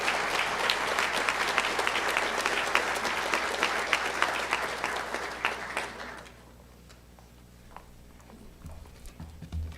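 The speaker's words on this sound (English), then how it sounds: "let's give them a round of applause" An indoor audience at a college honors awards night claps warmly for about six seconds, then the applause fades out to a quiet room.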